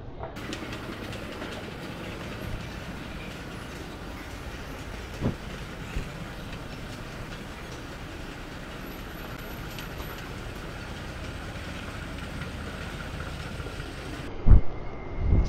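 A metro train in a Naples station rumbles continuously, a steady mechanical roar with occasional clanks and a brief electronic tone, ending in a few sharp knocks; no one speaks.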